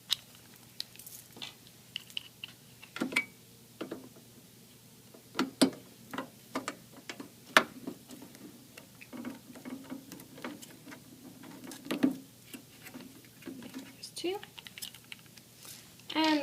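Phillips head screwdriver clicking and scraping against computer case screws, a scattered run of small sharp ticks and taps, close and fairly quiet, with soft background noise between them.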